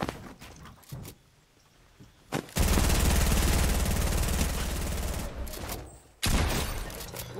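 Gunfire in the video game Fortnite, with a few sharp shots early on, then a loud sustained roar of rapid automatic fire that stops abruptly and resumes.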